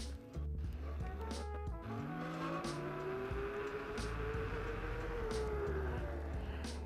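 Kingsong S22 electric unicycle on its original tyre accelerating from a standing start along a run and braking, giving a rising motor whine that climbs and levels off, with wind noise and some rumble close to the rider.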